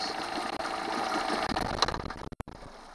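A Honda 8 hp outboard motor idles with a steady, dense mechanical hum and fine rattle, fairly loud and continuous, then briefly cuts out and stutters near the end, with no voices.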